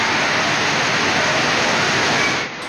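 Strong floodwater rushes through a city street in Ecuador's capital after an hour of heavy rain, making a loud, continuous broadband roar that fills the whole clip and eases slightly at the very end.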